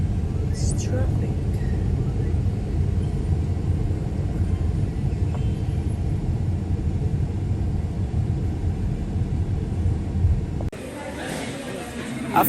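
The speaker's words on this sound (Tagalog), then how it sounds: "It's traffic." Steady low road rumble of traffic heard from inside a moving car on a long highway drive from Las Vegas toward San Diego, continuous and fairly loud, with faint voices murmuring, ending in a quieter stretch.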